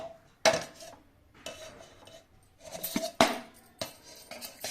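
Dough is transferred into a wide bowl in a kitchen, with several sharp metallic clanks and scrapes of the bowl and utensils spaced irregularly over a few seconds, close and fairly loud.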